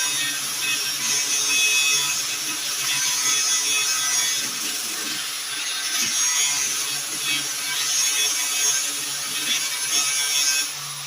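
Plastic pipe is cut in half with a steady, rasping saw stroke that runs continuously at close range, a rough scraping texture with no voices.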